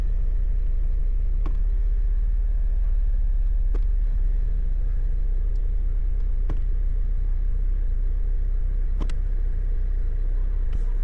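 A 2020 Honda Civic engine idles with a steady, deep rumble up close, broken only by a few faint clicks, and no voices.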